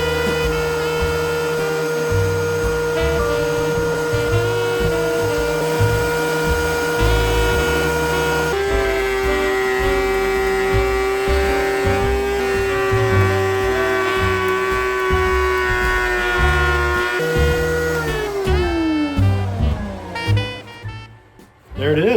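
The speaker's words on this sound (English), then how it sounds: "It's all jagged on this side, so we're gonna put it through the planer." A wood planer runs steadily and loudly, smoothing a board's jagged edge, with a sustained motor whine and dense machining noise that holds throughout, then winds down near the end.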